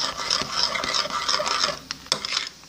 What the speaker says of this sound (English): You have to keep mixing, see?